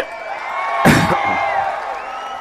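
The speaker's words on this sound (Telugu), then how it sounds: "ఆపలేవని గట్టిగా చప్పట్లు కూడా చెప్పండి" A crowd at a political rally in Parchur bursts into cheering and whooping, a sudden loud swell that peaks near the start and then eases into a sustained, busy murmur under a droning background tone.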